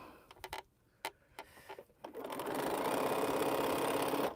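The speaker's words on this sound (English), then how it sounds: "Sew these 2 together" Several scattered clicks and taps at a quilting table give way to a sewing machine running steadily as it stitches mini pinwheel quilt blocks together. The motor's close, even whir lasts to the end, with no voices.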